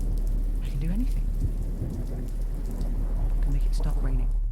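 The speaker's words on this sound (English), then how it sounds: "I can make it stop raining." Heavy rain pours steadily with rolling thunder underneath in an audio drama storm scene, a loud, continuous wash of downpour with deep rumbles throughout.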